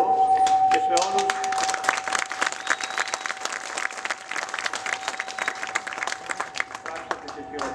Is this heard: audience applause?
yes